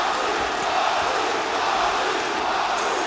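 An arena crowd at an AEW Dynamite wrestling show in Charleston, West Virginia, cheers loudly and continuously, a dense roar that holds steady throughout.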